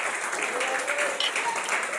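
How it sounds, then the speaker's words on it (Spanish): A church congregation applauding, a brief burst of dense clapping that fills the whole moment at moderate loudness. "El que lo crea, déle ese aplauso al Señor"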